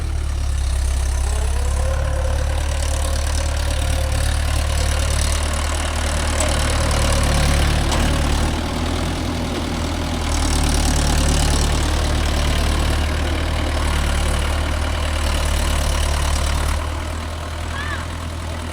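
A Mahindra 415 DI tractor engine runs steadily while pulling a 9-tine cultivator, giving a constant low, throbbing diesel drone close by that gently swells and eases without pause.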